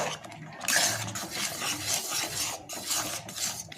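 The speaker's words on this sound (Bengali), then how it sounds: "এরপর সুজিটাকে এইভাবে নাড়তে হবে, সাথে সাথেই নাড়তে হবে" Semolina being stirred in a pan to dry out its water, giving a steady close scraping and rasping of a spoon against the pan bottom with repeated strokes and no talk.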